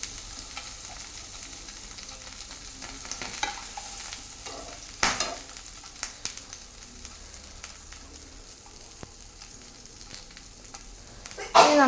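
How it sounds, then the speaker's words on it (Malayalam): An egg fries in a pan, giving a steady low sizzle with scattered pops and crackles throughout and a louder burst of crackling near the end; no voices. "മുട്ടയാണ് കുറച്ച് പൊട്ടും."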